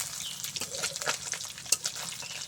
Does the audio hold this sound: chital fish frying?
yes